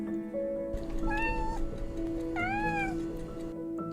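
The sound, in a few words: cat meowing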